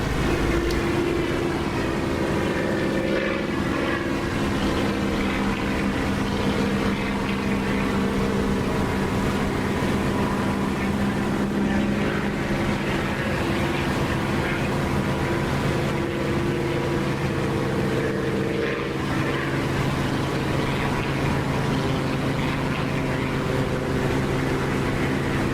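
A steady, droning aircraft engine inside the DCS flight simulator game, holding an even loud hum with layered tonal whine throughout, with no voices over it.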